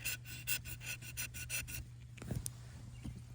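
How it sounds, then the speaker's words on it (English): Pruners scraping bark off a winter-damaged branch to check for live green wood, heard as a run of rhythmic close rasping strokes, then a few scattered softer scrapes, over a steady low hum with no talking. "I'm gonna scrape a little bit away"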